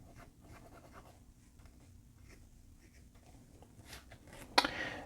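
A Moonman M100 fountain pen with a fine Bock titanium nib writes on paper, giving faint, soft scratchy strokes in short bursts, ending with a louder brief scrape or tap.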